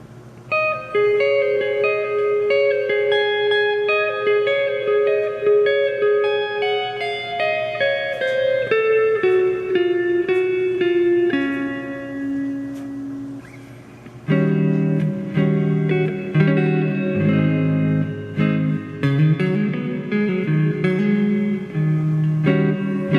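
A Behringer DR400 reverb delay pedal cycling through its reverb modes, with a tonal instrument playing descending then rising notes that ring out with long, washy reverberant tails, loud and alone without talk.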